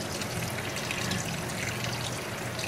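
Water runs steadily in a continuous broadband rush for six-week-old Aussiedoodle puppies, moderately loud and close, with no talk.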